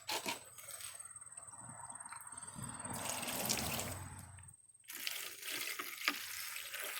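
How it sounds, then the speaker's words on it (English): Water running and splashing as an object is rinsed off, a steady close wash with brief drips and clatter, a short pause, then more trickling. "Let's start by rinsing that off."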